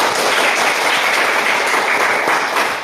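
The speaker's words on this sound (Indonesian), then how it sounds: "Tepuk tangan untuk kelompok kedua" A classroom group applauds for the second group during a lesson, dense and loud clapping that continues steadily for the whole short stretch.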